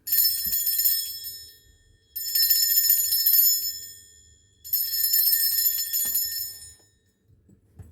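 A bright metal bell rings three times in long shimmering bursts, each trill fading before the next, with quiet pauses between.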